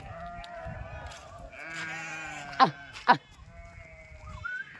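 Sheep bleat repeatedly nearby, with two sharp, louder bleats standing out in the middle over a low background murmur.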